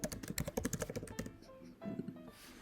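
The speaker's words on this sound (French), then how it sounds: "Donc, par exemple, on va retaper notre requête." Fingers type a search query on a computer keyboard nearby, a quick run of soft key clicks, then a few slower taps before it falls quiet.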